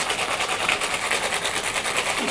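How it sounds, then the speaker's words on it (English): A cocktail is wet-shaken in a shaker, a steady, loud rattling churn of ice and liquid filling the whole stretch without pause and with no talk over it. "Just gonna wet shake"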